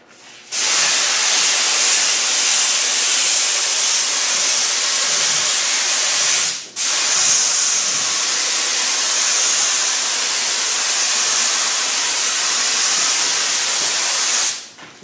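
Adhesive sprays from an aerosol can onto vehicle headlining during a headliner restoration, a steady loud hiss running in two long bursts with a short pause between.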